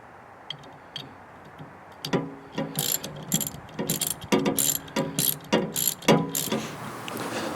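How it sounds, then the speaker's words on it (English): Metallic ratcheting clicks from an Allen wrench tightening a pulley on a John Deere snow blower during a belt replacement, starting sparse and then coming in quick, close bursts of repeated ticks. "just take our Allen wrench and tighten this back up."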